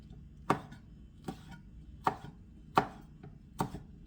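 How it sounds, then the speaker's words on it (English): A knife chops through spoiled parts of hot peppers, giving five crisp, evenly spaced strikes on a cutting board, close and clear with no talking. "now these peppers are going bad, so we'll just cut off the bad"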